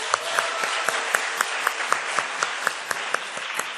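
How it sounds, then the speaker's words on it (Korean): A congregation at a Christian school's Wednesday service claps for 7th grade students, steady and fairly loud applause lasting a few seconds with some sharper individual claps standing out. "오늘 우리 7학년 위해서 박수 한번 칠까요?"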